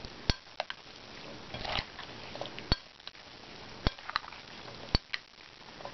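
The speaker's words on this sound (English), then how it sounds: "We're going to stir that all around." Cauliflower puttanesca with olive or flax oil being stirred in a bowl, giving a string of sharp utensil clinks and taps against the bowl at irregular intervals, with soft scraping between them and no talking.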